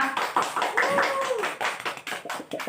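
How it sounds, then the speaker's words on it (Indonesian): A third-grade class claps together in an Indonesian classroom, with sharp rhythmic hand claps broken into bursts and children's voices calling out between and over them. "beri tepuk untuk kita semua"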